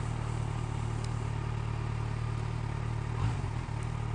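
A Yamaha sport motorcycle holds a steady mid-pitched engine drone through a curve, heard close from the bike with constant wind rush and a brief clunk near the end.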